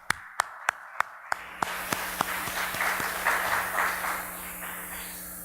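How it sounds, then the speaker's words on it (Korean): A church congregation at a Sunday Mother's Day service begins with a few sharp, evenly spaced claps, then swells into a broad, sustained wash of applause from the whole room. "우리 힘차게 박수로"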